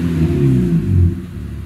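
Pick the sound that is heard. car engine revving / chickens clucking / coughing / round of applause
car engine revving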